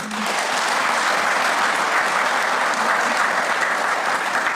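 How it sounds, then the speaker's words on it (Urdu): A large audience applauds continuously, a thick, even roar of clapping that holds steady from start to finish. "برائے مہربانی آپ تالیاں بجائیں"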